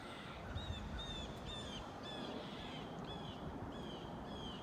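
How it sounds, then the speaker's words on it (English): Crows and starlings call in an autumn garden, faint repeated caws and chirps at regular intervals over a steady hiss of background noise, some distance away. "I think we have some crows and possibly some starlings, giving you a little bit of a chorus."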